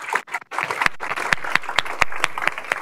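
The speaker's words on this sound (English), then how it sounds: "So I'd like a big round of applause and appreciation for all their hard work." An audience at a lecture on generalized symmetries applauds its staff members, a short burst of steady, fairly close clapping from a room of people.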